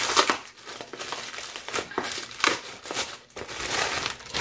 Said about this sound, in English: I'm just gonna rip the bag.